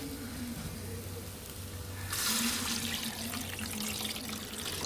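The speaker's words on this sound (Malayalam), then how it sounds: "ഇനി നമുക്ക് കുറച്ച് വെള്ളം ഒഴിക്കാം" Water is poured into fish curry masala in a pan, starting with a sudden splashing rush halfway through and then settling into a steady close gurgle over a low background hum, no voices.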